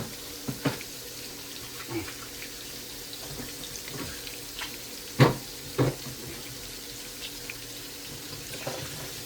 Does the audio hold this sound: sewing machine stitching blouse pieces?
no